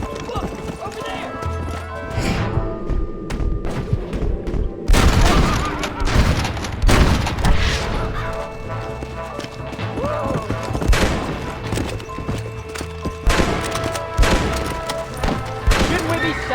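Gunfire in Red Dead Redemption: sharp repeated shots crack out during a chaotic scene with galloping horses clip-clopping, whinnying, and people shouting throughout.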